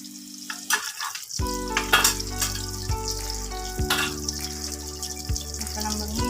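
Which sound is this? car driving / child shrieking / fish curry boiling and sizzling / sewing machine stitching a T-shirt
fish curry boiling and sizzling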